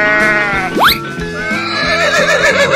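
A horse whinnies once, a loud rising-then-falling neigh cutting through a busy, cheerful children's music track with no talk over it.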